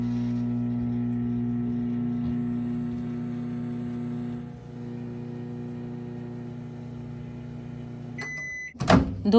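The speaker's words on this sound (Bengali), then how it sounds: "এবার এই সবজিগুলিকে আমি কিছুক্ষণ মাইক্রোওয়েভ করে নেব" A steady low microwave oven hum runs continuously while vegetables cook, then a couple of sharp beeps and a door clunk near the end.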